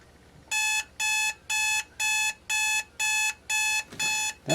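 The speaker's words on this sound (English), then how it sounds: "we'll just wait for the alarm to fire" Cosmo Time E-519 alarm clock ringing close up in eight evenly spaced electronic beep bursts, each about a third of a second, loud and alone in a quiet room.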